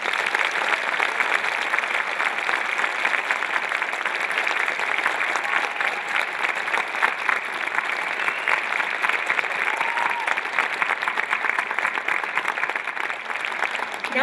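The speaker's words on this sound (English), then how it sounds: "Join me in giving these officers another round of applause." Crowd at a Phoenix Police Department annual awards ceremony applauding officers, a sustained, even roar of many hands clapping that holds steady throughout.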